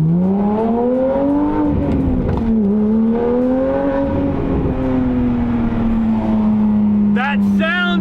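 Porsche GT3 Touring engine accelerating up close, a loud rising and falling howl that climbs through the revs and holds high, with a short burst of speech near the end.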